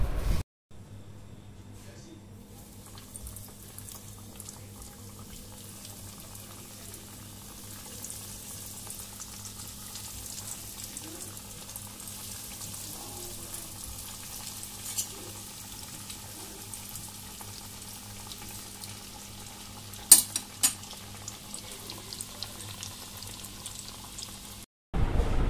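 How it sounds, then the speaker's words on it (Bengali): Chicken nuggets coated in white breadcrumbs frying in hot oil in a home kitchen, a soft continuous sizzle with a low steady hum beneath and a few sharp clinks near the end. "আমাদের নাগেটস ভাজা শেষ"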